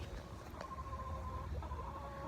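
Chickens cluck softly nearby in the shade, a couple of drawn-out bawks over a faint outdoor hum, quiet and without talk.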